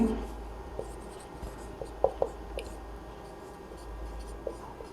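Math is written by hand during a class 12 inverse trigonometry lesson: faint, sparse pen taps and light scratches sit over a low steady hum, with a few sharper strokes near the middle.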